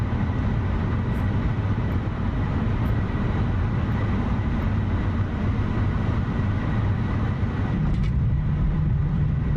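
Simulated F-14 Tomcat making a rough landing in the DCS flight game: a steady, loud broadband roar of jet engines and rolling runway rumble holds without break, with no voices.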